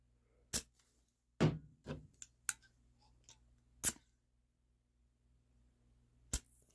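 Several short sharp clicks and hisses, spaced irregularly with silence between, close and fairly quiet, as a gas pistol magazine of a Cybergun Desert Eagle is refilled through its valve, which may be clogged.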